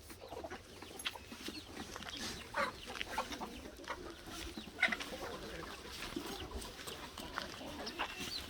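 Sultan chickens cluck softly on a farm, mixed with other faint barnyard bird calls and background noise, with no clear talk.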